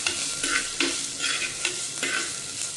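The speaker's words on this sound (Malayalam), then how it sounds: "ചെറിയ ഉള്ളി ചെറുങ്ങനെ അരിഞ്ഞിട്ട് ഇതുപോലെ ഇട്ടിട്ട് നല്ലോണം വഴറ്റിക്കോ" Finely chopped shallots sauté in a pan, a loud close sizzle with regular stirring scrapes about every half second, and no voices.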